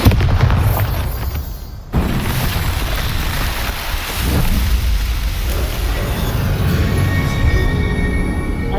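A Bombarda spell blast in Hogwarts Legacy booms loud and close, a dense roaring burst that sustains with rumbling debris for several seconds before easing into an ongoing crackling wash.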